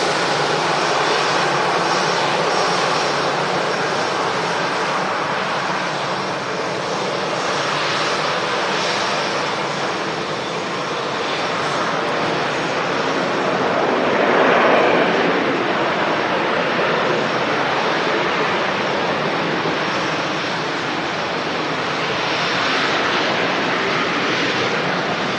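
Aircraft engines at Manchester Airport roar continuously, a loud, broad steady jet rush that swells slightly mid-way without letting up, with no talking.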